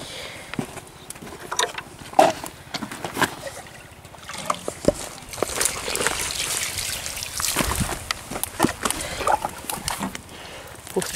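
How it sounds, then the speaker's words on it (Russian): Water poured from above onto carrot and beet seed beds laid with paper, a loose splashing and trickling that swells and fades over several seconds, close by, with some outdoor rustle. "Мы их сверху поливаем, так чтобы вся наша бумага увлажнилась"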